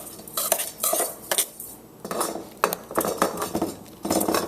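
Metal utensils clink and scrape against a bowl while sliced zucchini is stirred with shredded parmesan, salt and garlic powder, a busy irregular rhythm of close, bright taps and scrapes with no talk.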